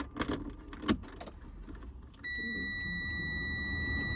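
Car keys jingle with a few bright metallic clinks, close and quiet, before a steady hum and a constant high chime take over inside the vehicle.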